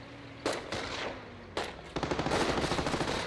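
Half-track machine gun fire in the Company of Heroes strategy game: a few separate gunshot bursts, then a rapid rattling stream of automatic fire, loud and close with no voices.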